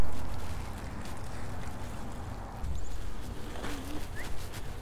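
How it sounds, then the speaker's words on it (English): A Paselec Climber 3 electric mountain bike ridden through mud, giving a rumbling, wet churning of tyres with faint splashes and rattles, close and continuous with no speech. "Just go through the mud here."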